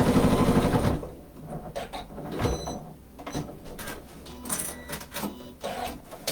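A sewing machine stitches a shopper tote bag in loud, continuous mechanical bursts. The rapid needle chatter pauses and restarts with clunks as the fabric is turned, and no one speaks.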